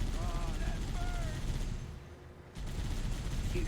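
Rapid bursts of video game gunfire during a shooter match, dense and continuous with a brief lull in the middle, with talking voices in the background.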